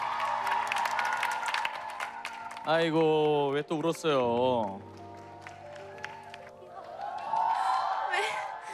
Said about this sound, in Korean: 자, 그럼 뜨거운 박수 부탁드립니다